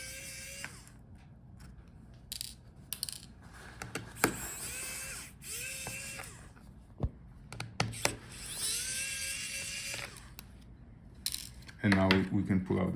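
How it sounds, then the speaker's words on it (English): A small screwdriver works screws out of the battery compartment of an HP Pavilion Aero 13z laptop, producing repeated short metallic scrapes, clicks and whirring turns close by, with brief pauses between screws. "So take out all the screws."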